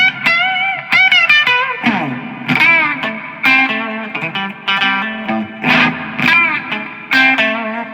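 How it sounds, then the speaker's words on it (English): A guitar played through an amp with heavy reverb, bright distorted notes and chords ringing out with long washy tails in uneven phrases. "So, loads of reverb, which is a ton of fun for the blues thing."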